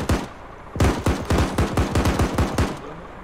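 Rapid bursts of automatic gunfire in the military video game Arma, about a dozen sharp loud shots in quick rhythmic succession after a single opening shot, with no voices over them.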